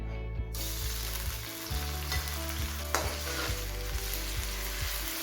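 Onion frying in two spoons of oil for whole masoor daal, a steady low sizzle with occasional stirring scrapes, heard under a persistent background hum and fairly quiet throughout.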